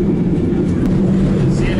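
Steady low rumble of a San Francisco tram car in motion, a continuous close mechanical drone with faint rattles throughout, no speech over it.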